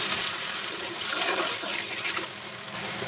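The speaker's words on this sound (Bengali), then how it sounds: "এখন আমরা জল দেব।" Water poured into a pan of spiced curry masala makes a loud, dense, continuous rush and hiss right up close, with no voices.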